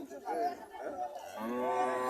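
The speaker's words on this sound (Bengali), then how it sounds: "এখানে একটা ফিজিয়াম জাতের গাভি দেখা যাইতেছে" Friesian dairy cow at a cattle market lowing in a long, drawn-out moo that swells toward the end, close and fairly loud, with faint voices in the background.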